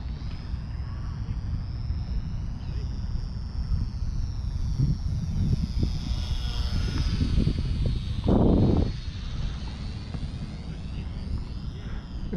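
XK T-28 Trojan RC plane flying at full throttle outdoors: a high, steady electric motor whine drones at a distance, shifting slightly in pitch, with wind buffeting and a brief louder rush midway.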